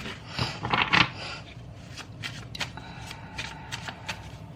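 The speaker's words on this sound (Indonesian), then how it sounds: "Aku shuffle dulu ya kartunya" A deck of cards gets a brisk riffle shuffle, starting with a dense, louder burst of flutter and then settling into lighter, scattered card flicks, close by and alone.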